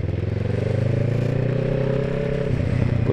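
A 125cc learner motorcycle on the road, its steady engine drone holding close and loud throughout with a slight rise in pitch toward the end and faint rattling over it.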